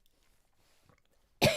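A single sharp cough from a person who has run out of water, bursting suddenly after near silence and loud at close range.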